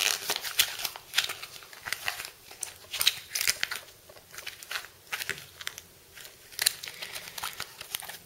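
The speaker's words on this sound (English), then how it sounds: "what we're going to do is just go ahead and crumple it up" Carbon fiber vinyl car wrap is crumpled by hand, giving close, crisp crinkling and crackling bursts in an irregular rhythm, with no talking.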